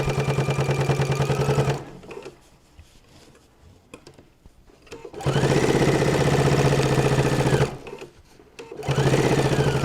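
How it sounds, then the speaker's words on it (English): Sewing machine stitching around a fabric notebook holder, running in loud steady bursts with pauses between, the motor whirring and needle chattering up close. "I'm just going to sew all the way around"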